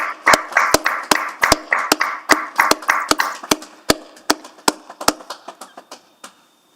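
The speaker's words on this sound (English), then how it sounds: "please join me in a round of applause for these extraordinary leaders in our community" People at a city council meeting give a round of applause: sharp, distinct claps from a small group in an irregular rhythm that gradually thins out and fades toward the end, with no talking.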